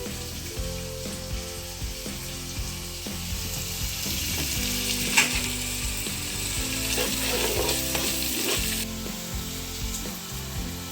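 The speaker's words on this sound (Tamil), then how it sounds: "பூண்டு வதக்கிச்சு பச்சை மிளகா போட்டுக்கலாம் புதினா பருப்பு போட்டுக்கலாம்" Garlic, green chillies and mint sizzle steadily in a pan for Ambur-style chicken biryani, a loud continuous frying crackle with occasional scraping stirs and no talk.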